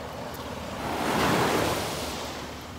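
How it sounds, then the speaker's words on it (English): Ocean surf washes in a steady broadband roar, swelling to a louder crest midway and then easing back, with light wind noise on the microphone. "The waves sound so beautiful"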